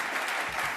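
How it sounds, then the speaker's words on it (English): Sustained applause from an audience at a Champions of Change event, a dense, even wash of clapping that fills the whole brief moment at moderate level with no pause. "Another round of applause to Cleo and her family."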